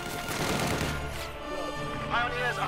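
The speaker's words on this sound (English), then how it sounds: "Dushka bunker opening up and simply tearing through the assault grenadiers" A Dushka machine gun bunker in Company of Heroes 2 fires a dense, continuous burst, its rattle running loud under a commentator's voice.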